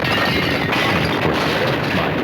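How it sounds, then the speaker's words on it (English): Explosion sound effect fired from a podcast soundboard, a short loud continuous burst of rumbling, crackling noise filling the whole clip with no voices. "That was an explosion because I'm blowing up."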